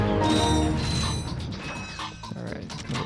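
A bolt crank turned in the Ratchet & Clank video game, loud mechanical creaking and ratcheting clicks with grinding gear noise, steady at first then breaking into rhythmic clanks.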